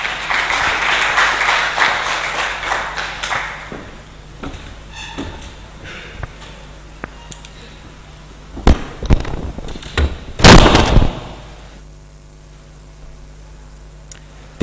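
Applause rises from the audience at a tourism awards gala, a sustained wash of clapping that fades into quieter room noise, followed by a few sharp loud knocks and bumps near the microphone.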